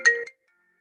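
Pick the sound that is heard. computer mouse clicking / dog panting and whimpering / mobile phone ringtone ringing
mobile phone ringtone ringing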